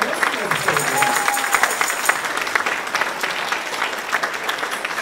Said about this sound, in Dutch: Geef ze alvast een groot applaus